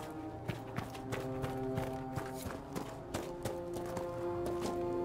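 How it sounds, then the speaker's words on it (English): Horses in Dragon Age: Inquisition clatter off at a gallop, a quick run of hoof clops over a low musical backdrop. "I'm gonna scare this guy's horses."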